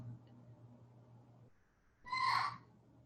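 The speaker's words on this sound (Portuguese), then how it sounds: "vocês devem estar começando a ouvir o papagaio do meu vizinho" A neighbour's parrot lets out a single short, shrill squawk from a distance, following a few seconds of faint room hum.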